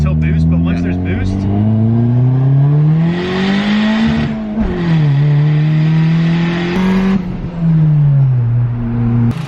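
Car fitted with a screamer pipe exhaust revving loudly up and down, a strong rising and falling engine drone with a rattly edge, close by, with a person talking over it.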